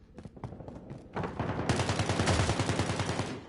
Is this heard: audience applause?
no